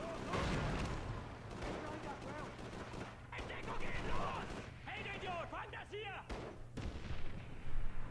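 Combat noise from the video game Call of Duty 3, with a grenade blast amid bursts of gunfire and rumbling booms, loud and sustained under a continuous low hum, with a voice talking over the action.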